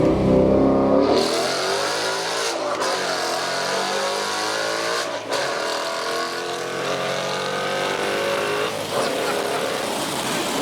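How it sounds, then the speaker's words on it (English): A manual Ford Mustang GT engine roars hard and loud under heavy acceleration in first gear, climbing in pitch with brief dips at the shift points, sustained and close throughout. "Let's do a first gear pull."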